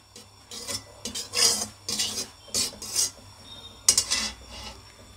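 Ghee being spread around inside a kadhai with a utensil, a series of short scraping, rasping strokes of metal on metal, close and fairly quiet, with pauses between them.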